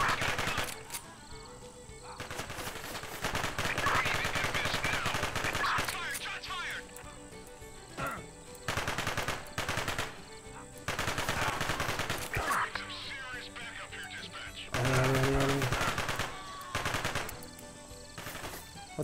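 Bursts of Uzi gunfire in the open-world video game American Fugitive, rapid automatic volleys repeated in several loud clusters, with a voice talking between them.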